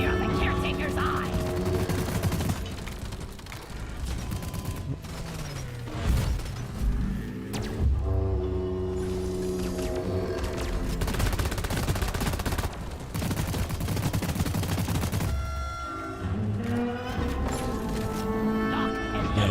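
Dense, continuous gunfire at the Caretaker boss in Deep Rock Galactic, loud rapid bursts and thuds with explosions layered through, and a voice speaking over the action.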